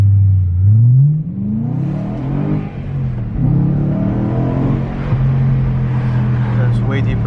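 A BMW E92 M3 with a newly fitted exhaust and resonators still in place revs loudly nearby, the engine note climbing and falling through several deep pulls before settling into a sustained rumble.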